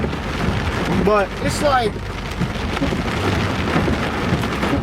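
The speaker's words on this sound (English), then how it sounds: "what's up with this rain" Heavy rain pours steadily and loudly throughout, with rumbling thunder underneath, while someone talks over the downpour.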